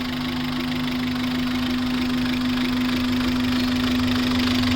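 A 2009 ex-army Maruti Gypsy engine idling steadily with a constant low hum and a faint knocking texture, close by and unbroken, with no voices.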